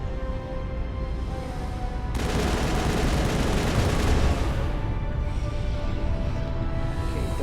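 Turret gunfire in the video game Mass Effect: a dense, loud burst of rapid shots erupts after a low rumbling bed, pounds steadily for a few seconds, then eases back into ongoing combat noise.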